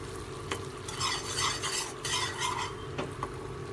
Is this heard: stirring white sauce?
yes